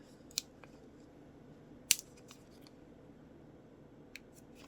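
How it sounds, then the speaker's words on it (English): Scissors cut paper for a small collage on a Rolodex card: three or four sharp, isolated snips spaced seconds apart over a quiet background, with no talking. "I may have to cut that little CA off"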